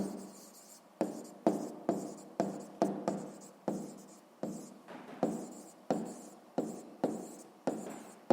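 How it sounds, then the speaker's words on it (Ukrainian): Pen strokes writing out a math equation by hand, a steady run of about fifteen close, quiet scratching strokes in an even rhythm, heard alone without talking. "Так і записуємо, пишемо, отримаємо."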